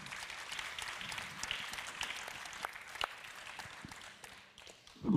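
Scattered, fairly quiet applause from a union conference audience during a round-table introduction, light clapping that thins out toward the end before a brief louder bump.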